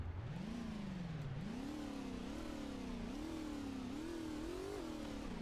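Car engine revving up and down repeatedly, a rising and falling whine heard fairly faint under steady background noise.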